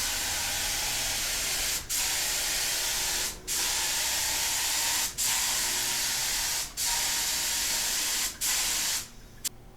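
Spray gun hissing finish onto a Blackguard Esquire guitar body in long steady passes, each burst lasting about a second and a half and broken by brief pauses, loud and close with no talk.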